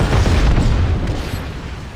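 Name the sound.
naval gunfire explosion in a battleship video game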